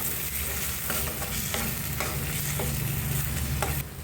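Jackfruit curry stir-fried in a pan, a steady loud sizzle with repeated scraping stirs throughout and no talking.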